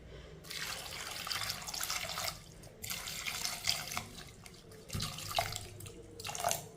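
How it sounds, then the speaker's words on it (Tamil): Water runs from a tap in bursts into a cooking pot while a weight-loss drink with mint is prepared, a hissing, splashing pour that stops and starts several times, close and fairly quiet. "தண்ணி ஊற்றிக்கிடுவோம்."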